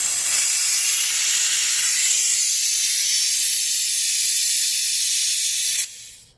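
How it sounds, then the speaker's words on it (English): Steady, loud hiss from a vacuum bleeder as the rear brake bleed valve on a 2004 GSXR 1000 is cracked open, holding constant for several seconds and then cutting off abruptly near the end. "Crack the valve open."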